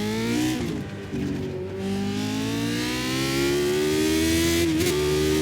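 A race car in a racing simulator game pulls away and accelerates, its engine whining steadily upward in pitch through the gears, loud and continuous with no talk.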